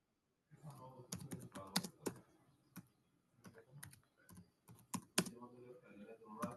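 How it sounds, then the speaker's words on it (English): Typing on a computer keyboard, a quick irregular run of close key clicks with short pauses and bursts, fairly quiet. "I'm typing it."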